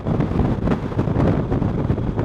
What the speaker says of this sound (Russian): Такой сильный ветер дует